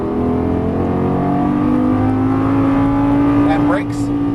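Lamborghini Gallardo LP550 engine on a race track, a steady loud drone from inside the car with pitch climbing gradually as the throttle opens, a brief whine near the end, and a coach talking over it.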